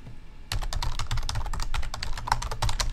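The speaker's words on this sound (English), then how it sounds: "Let's type my domain name" Rapid, steady clatter of keys on a computer keyboard as a domain name is typed, starting after a brief quiet half-second and continuing close and fairly loud with no talking.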